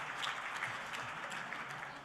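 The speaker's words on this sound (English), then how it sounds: "Thank you for clapping." Steady audience applause fills a luncheon hall during a Carolina Panthers kickoff event, a dense, even wash of clapping from many hands held at moderate level for about two seconds, with no voices standing out.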